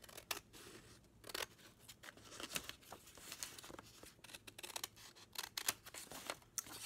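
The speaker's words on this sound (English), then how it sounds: "now I'm going to cut on these lines" Scissors snip through paper flashcards along drawn lines: a steady run of short, crisp cuts with faint paper rustle between them, close and alone with no talking.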